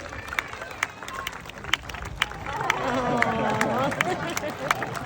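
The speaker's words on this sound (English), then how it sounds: "Let's give her a very big round of applause" Audience applause at a sea lion show, scattered sharp claps swelling into a denser round of clapping mixed with crowd voices and chatter.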